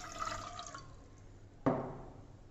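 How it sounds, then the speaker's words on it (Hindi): Two cups of water poured into a cooking pan, a faint trickling splash that fades, then a sudden clunk of the pan or cup in a quiet kitchen. "पैन में डालेंगे 2 कप पानी"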